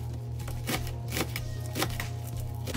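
A sharp knife chopping collard greens and broccoli on a board, several crisp chops landing in an uneven rhythm over a steady low hum.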